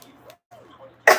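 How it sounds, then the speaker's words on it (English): A woman who recently had COVID gives a single sharp, dry cough, close and abrupt at the very end after quiet breathing. "I do have a pretty harsh cough, kind of dry and nasty."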